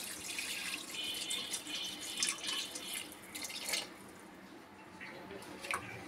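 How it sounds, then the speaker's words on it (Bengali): Water running and splashing as it is poured into a pressure cooker pot of nihari, a continuous close trickle with small drips and squishes, fairly quiet. "আমি এখানে আরও একটু পানি অ্যাড করে দিচ্ছি।"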